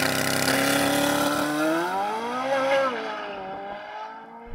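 A Corvette Z06 with a naturally aspirated V8 accelerates hard on a timed run, its loud engine note climbing steadily through the gears, then easing off as it pulls away.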